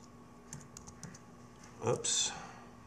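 Light typing on a computer keyboard, with sparse, soft key taps followed by a slightly louder burst of clicks near the end, all heard faint and close.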